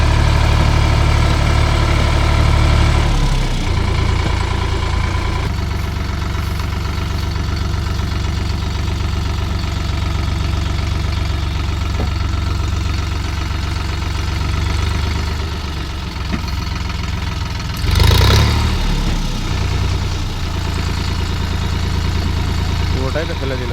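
A Sonalika 47 Rx tractor stuck in mud runs with a loud, steady low diesel rumble that shifts slightly in load partway through, with a person talking nearby.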